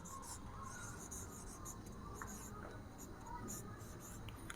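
A pen scratches steadily across paper as someone writes out the properties of solids in a chemistry lesson, a soft continuous rubbing with brief strokes and pauses, fairly faint and close.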